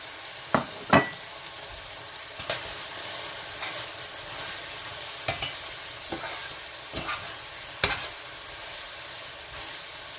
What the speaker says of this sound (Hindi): अब इनको अच्छी तरह हमने भूनना है ताकि टमाटर जो है वो सॉफ्ट हो जाए।